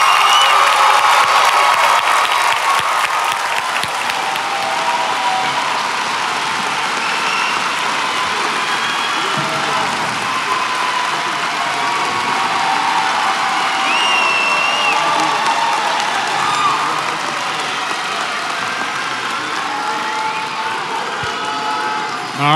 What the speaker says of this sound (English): how about a big round of applause for all of the graduates?